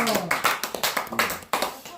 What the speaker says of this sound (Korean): 우리 노인의 운영위원회 위원장님께 고마운 박수 좀 또 한번 보내주십시오